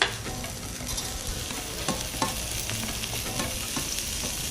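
A mushroom and onion mixture cooks in a pan beside fillet medallions, producing a constant close sizzle broken by scraping and tapping from stirring, with no talking.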